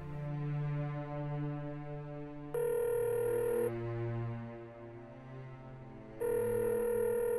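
An unanswered telephone rings on and on, a repeating electronic ring tone with bright chirping bursts recurring every few seconds, loud and close with no voices.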